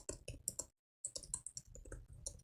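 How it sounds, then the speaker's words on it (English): Quick bursts of typing on a laptop keyboard during a typing test, with rapid, close, crisp key clicks, a brief pause near the middle and then a fresh flurry of keystrokes with no talking. "I haven't done a typing test in 3 years"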